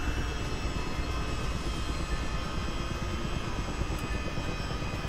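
Chinook helicopter engines spooling up in Microsoft Flight Simulator 2020, a loud dense turbine whine and roar with a steady high tonal hum, continuous and building without a break.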